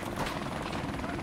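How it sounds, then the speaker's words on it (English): A helicopter in the video game Call of Duty 4 Remastered drones with a dense rotor chop and engine roar, loud and steady for the whole moment, with no clear speech over it. "Oh, chopper."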